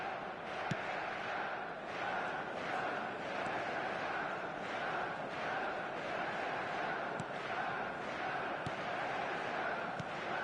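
A steady stadium crowd roar fills an eFootball match on PS5, a broad, continuous wash of cheering held at an even level with faint thuds scattered through it.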